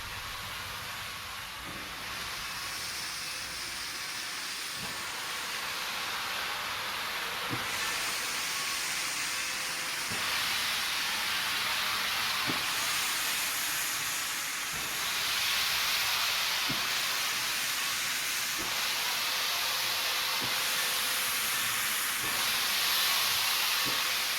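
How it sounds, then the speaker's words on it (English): C&O 2765, a 400-ton steam locomotive, works hard under throttle while climbing the New River Gorge, giving a steady loud roar of steam and hiss with regular sharp exhaust beats spaced a few seconds apart, no voices. "The engineer cracked open the throttle, bringing to life over 400 tons of steam locomotive."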